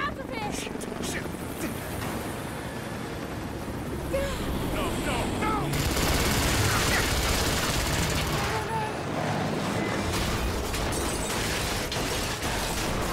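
Gunfire in the video game Rise of the Tomb Raider, dense bursts of shots and explosive rumble mixed with a helicopter-like roar, loud and continuous, with a voice shouting over the action.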